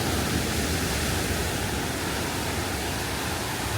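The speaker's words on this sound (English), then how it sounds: "These waves are so big, and yet they're probably not even like big for what they're used to." Big ocean waves at La Jolla Cove in San Diego make a constant, broad wash of surf at moderate volume, with no distinct breaks between waves.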